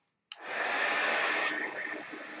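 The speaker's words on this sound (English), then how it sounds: "There's going to be a heat gun going off." A heat gun starts abruptly and blows a steady, loud rush of hot air for about two seconds, easing slightly toward the end, in a mixed media art session with no talk.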